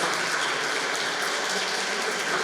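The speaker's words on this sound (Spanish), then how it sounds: "las despedimos con un aplauso" An audience at a panel session of a care festival applauds, steady dense clapping that fills the space evenly from start to finish with no voices on top.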